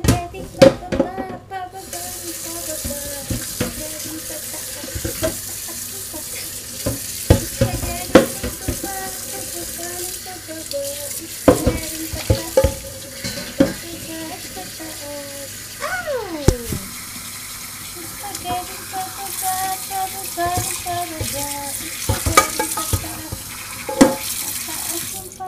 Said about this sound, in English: Good to hear the spaghetti.